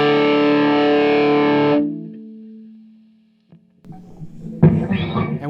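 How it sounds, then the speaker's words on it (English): A loud, buzzy fuzz-distorted electric guitar chord through an MXR Classic 108 Mini Fuzz pedal rings out, fades into a sustained low note, then a few more gritty strums follow. "let's give it the fuzz test"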